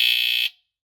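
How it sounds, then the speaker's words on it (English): A 1981 BRK 769AC smoke alarm lets out one loud, piercing half-second buzzer blast during a test. It stops abruptly and leaves silence. "it has a very loud buzzer sound of like these typically do"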